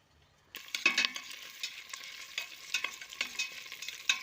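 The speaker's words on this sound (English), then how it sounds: "Let me get back to these onions." Onions fry in a pot for a beef and tomato stew, a steady sizzle that starts abruptly, broken by irregular scraping clatters as a utensil stirs them, close up with no voices.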